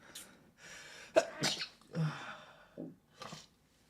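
A person sneezes once, sharply, with breathy catches of breath before it and soft noises afterward, close and fairly quiet in an otherwise hushed room.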